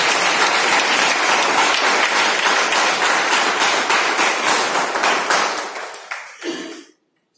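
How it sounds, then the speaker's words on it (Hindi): Loud, dense applause from an audience honoring a successful guest, sustained for several seconds before tapering off and ending abruptly with a final thump. "तो मैं चाहूंगा आपकी सक्सेस के लिए जोरदार तालियां बजाइए।"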